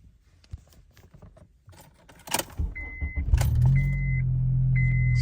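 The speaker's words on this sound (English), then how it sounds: "So I turn the ignition on" A car's ignition is switched on with an OBD II scanner plugged into its port: quiet rustling and a clunk, then a rising electrical hum settles into a steady drone with repeated short warning tones.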